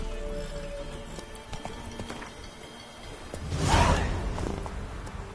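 Horse galloping in The Witcher 3 video game, with a continuous rhythmic clip-clop of hooves at a steady pace, swelling into a louder swishing rush midway before settling back, no voices heard.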